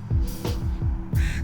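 A crow-like bird caws outdoors in snowy Skagway, Alaska, a series of about five harsh, descending croaks in a quick uneven rhythm, fairly loud and near, with no talking over them.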